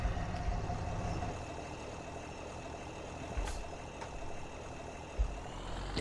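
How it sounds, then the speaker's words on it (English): A tractor engine left running in Farming Simulator 17 idles steadily as a low, continuous rumble throughout, with a couple of brief thumps and a short higher whoosh partway through. "Oh, I shouldn't have left the tractor running."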